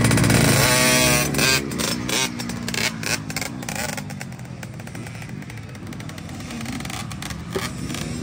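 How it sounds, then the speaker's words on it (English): A KTM 50SX petrol dirt bike ridden on a track, its small two-stroke engine revving high and loud at first, then dropping and buzzing with choppy throttle changes as it moves away and back. "First lap back out on the petrol bike."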